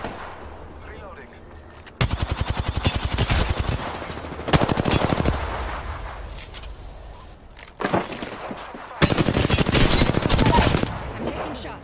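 Bursts of automatic gunfire from Apex Legends, loud rapid volleys arriving in three separate stretches with quieter game ambience and faint background sounds between them.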